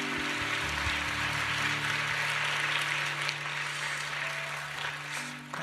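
Congregation clapping after a prayer at an early-morning church service, sustained dense applause from many hands filling the room and slowly tapering toward the end.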